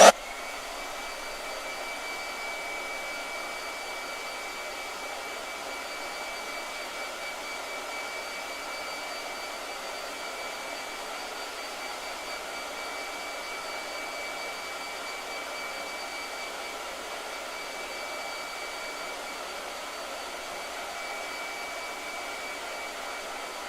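A blow dryer runs continuously at a steady, fairly quiet level, an even airy whir with a faint high whine, and no talking over it.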